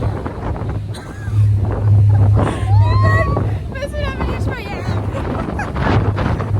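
Gusty wind buffeting the microphone with low rumbling bursts, while voices talk over it.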